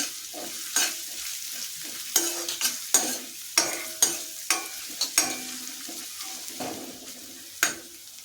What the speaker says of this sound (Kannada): ಸಣ್ಣದಾಗಿ ಕಟ್ ಮಾಡ್ಕೊಂಡಿರುವಂತಹ ಅರ್ಧ ಈರುಳ್ಳಿಯನ್ನು ಸೇರಿಸಿ ಇದನ್ನು ಸಹ ಫ್ರೈ ಮಾಡ್ತಾ ಇದ್ದೀನಿ